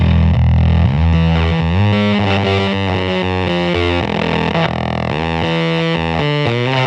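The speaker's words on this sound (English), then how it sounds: "Some people might call that kind of a radio fuzz, very vintagey sounding." Vintage-style radio fuzz from a guitar pedal, heavily bandpass filtered, with a garage-rock character: a saturated, buzzy electric guitar plays a run of sustained distorted notes and chords, loud and continuous, with no talking.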